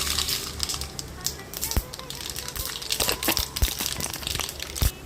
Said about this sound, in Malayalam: കടുകെല്ലാം പൊട്ടി വരുമ്പോൾ